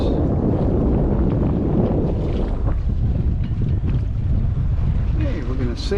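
A sailboat underway off Mount Desert Island, Maine, near Great Cranberry Island, with loud, steady wind buffeting the microphone over rushing water and hull noise.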